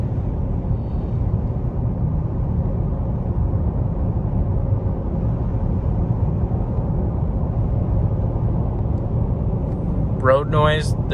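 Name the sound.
road noise inside moving electric car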